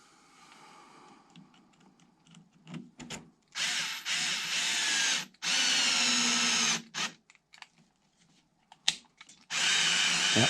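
Power drill reinstalling a front hub on a Losi DBXLE 2.0 RC truck, firing in several loud close bursts of a second or two each, separated by quiet gaps with small clicks and handling noises.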